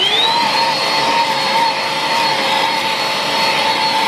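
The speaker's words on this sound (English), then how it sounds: "I'm gonna grab my Hoover and some of the attachments and try and vacuum up as much of this dust as possible" A Hoover cordless stick vacuum runs steadily, sucking up dust during a spring deep clean: a loud, constant motor whine with a high steady pitch that holds throughout, close to the microphone.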